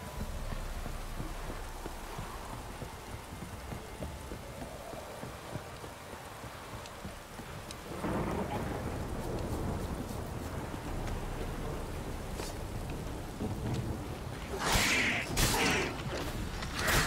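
Downpour and thunder in The Witcher 3 video game: constant rain hiss with wind, a deeper rumbling swell midway, and sharp louder bursts near the end, no speech.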